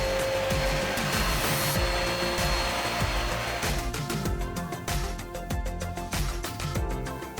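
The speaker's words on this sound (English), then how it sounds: "Like all vacuum cleaners on the market, it makes noise, but it's actually not too loud." A GEVI cordless vacuum cleaner runs with a steady, loud, close-up motor whine and airflow roar for the whole stretch, with no talking.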